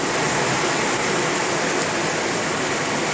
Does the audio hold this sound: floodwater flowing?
yes